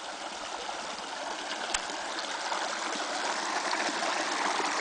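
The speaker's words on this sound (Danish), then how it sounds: "floden eller åen." A small river or stream babbles and gurgles steadily at a quiet campsite near a highway, a continuous even wash of flowing water with one brief knock partway through.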